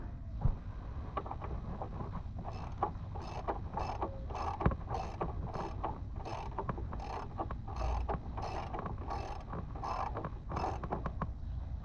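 Ratchet tightening the oil pan drain plug on a 2007 Ford F-150 Harley-Davidson, a run of quick metallic clicks in irregular bursts, close and moderately loud, with no talking.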